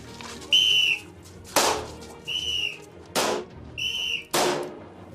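Sharp whistle blasts at a police shooting training session alternate with loud gunshot cracks, roughly three of each in a steady back-and-forth rhythm, with no talking.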